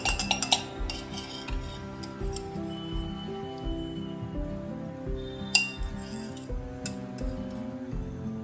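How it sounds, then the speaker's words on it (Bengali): A spoon clinks repeatedly against a glass while someone eats fried flattened rice (chira) from it. The small bright taps come in an irregular rhythm, with a few sharper knocks, over a steady background hum. "গ্লাসের মধ্যে চিড়া ভাজা নিয়ে চামচে করে খাচ্ছে।"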